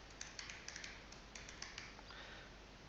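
Quiet, uneven clicks of fingers typing on a computer keyboard come in short clusters of keystrokes with small gaps, faint and close.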